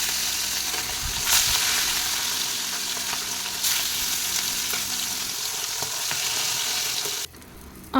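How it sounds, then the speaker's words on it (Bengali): Fish heads fry in white oil in a wok, giving a loud, continuous close sizzle with occasional stirring scrapes; the frying cuts off sharply near the end, leaving a quieter pause. "এখানে সাদা তেল দিয়ে আগে মাছের মাথাগুলো অল্প অল্প করে ভেজে নিই"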